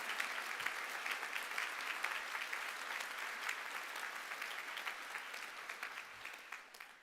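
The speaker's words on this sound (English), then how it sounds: "They deserve a big cheer as well." Sustained applause from a big audience at a university graduation, steady and even for about seven seconds before easing off at the end, with no clear cheering standing out.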